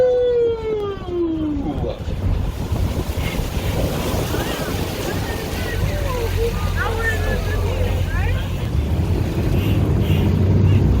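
Boat cruising on the Charles River by Boston Harbor, steady engine rumble and water wash with wind buffeting the microphone, a falling whistle-like tone at the start and faint voices scattered through.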